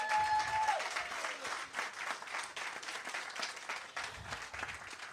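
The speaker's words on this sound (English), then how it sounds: "Let's turn this energy around and give everybody a round of applause tonight." Crowd applause at a community event marking the demolition of Jamestown Mall, sustained clapping from many people at a moderate distance, fairly even in level with scattered sharper claps, no speech.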